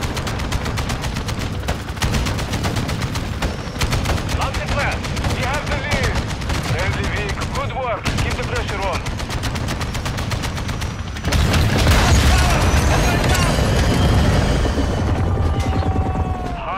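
Dense gunfire from a Modern Warfare 2 Invasion match: rapid automatic bursts and single shots crackle almost nonstop, and heavy booming explosions swell louder near the end, with radio-style voice callouts mixed into the battle noise.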